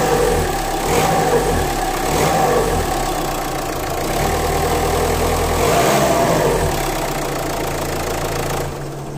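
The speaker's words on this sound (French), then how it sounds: "je vais faire un essai de démarrage et normalement elle doit démarrer en un quart de tour" A Renault Mégane 3 diesel engine idles steadily at close range after a fuel filter change, a continuous mid-pitched rumble with a faint knocking rhythm that holds for several seconds before cutting off.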